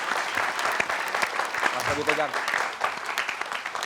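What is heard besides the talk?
audience applause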